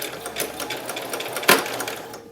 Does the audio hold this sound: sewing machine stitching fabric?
yes